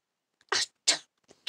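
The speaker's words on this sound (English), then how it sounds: "I sneezed." A single sharp sneeze bursts out close and loud, followed by a second breathy burst and a faint trailing sniff, with no talking around it.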